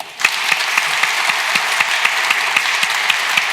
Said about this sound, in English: please can you join me in giving Mohamedou a big round of applause.